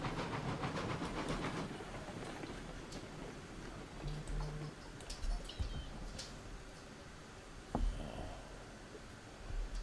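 A steam locomotive rolls along in the RailRoads Online game, with a continuous rumbling, hissing run, rhythmic rail clatter, and an occasional metallic clunk, steady and fairly loud throughout.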